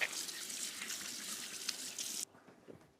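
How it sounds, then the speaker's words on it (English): Hands washed under a running kitchen tap, a close steady splashing hiss of water that cuts off abruptly, leaving faint drips and handling noise. "just going to wash my hands"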